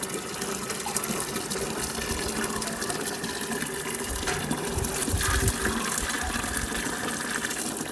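Grape molasses (pekmez) poured out as a liquid, a steady gushing, splashing pour that carries on for several seconds without a break, close and fairly loud.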